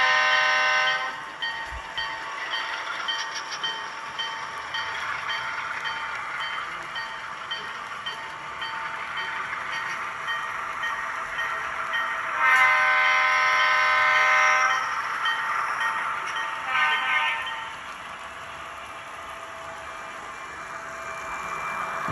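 An HO scale model train rolls on metal wheels, giving a steady, continuous running hum across the whole stretch with a brief tonal horn-like burst partway through and no talking.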